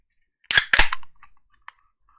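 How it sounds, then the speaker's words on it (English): A beer can cracks open with a sharp double pop and a quick burst of fizzing hiss, followed by a brief metallic clink, close and loud with no talking. "I gotta crack that beer"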